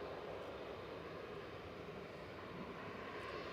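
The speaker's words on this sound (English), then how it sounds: "Logan Air's SAJL departing back to Inverness now, flight 592, ERJ 145" Loganair Embraer ERJ 145 regional jet departing Manchester Airport, a steady broadband engine roar heard from a distance, continuous and fairly even in level throughout with no talk.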